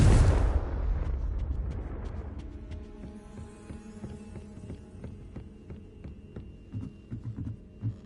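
Confringo blasting spell exploding in the video game Hogwarts Legacy: a loud, deep booming blast at the start, decaying into a low rumbling hum with scattered crackles and faint tones.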